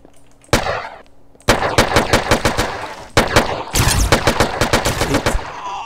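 AK rifle fire in the SA-MP Hunger Games video game, loud sharp shots in rapid automatic bursts with brief gaps between strings, close and punchy.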